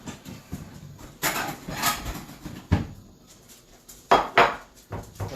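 Dishes and utensils clink and clatter in a kitchen while buttermilk biscuits and sausage gravy are plated, with scattered sharp knocks and scrapes of varying loudness and no talk.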